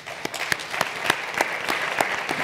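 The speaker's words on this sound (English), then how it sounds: "I think we all need to give ourselves a round of applause for being here today" Audience applause at a keynote address for a women's summit, a steady patter of clapping from a moderate-sized crowd filling the whole stretch without talk over it.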